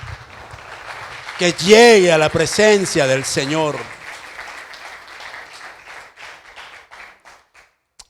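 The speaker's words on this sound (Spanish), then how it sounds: "Den un aplauso a nuestro Señor" A church congregation at a Spanish-language worship service claps, the applause building under a preacher's loud sung speech and then continuing alone, thinning out and fading by the end.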